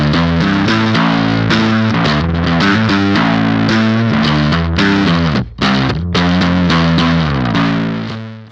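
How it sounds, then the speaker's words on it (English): A dark-sounding bass guitar driven through the left side of a Tallon Electric Dual Drive pedal, playing a continuous loud, gritty distorted riff with a brief gap near the end, with no one talking. "So we're going to distort the sound with the left side of the pedal first."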